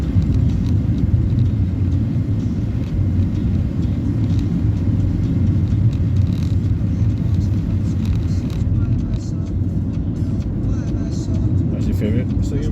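Steady, low road rumble from a car driving along Marmion Ave on a bumpy stretch, a continuous engine and tyre drone holding even for the whole stretch with faint clicks and rattles inside the cabin.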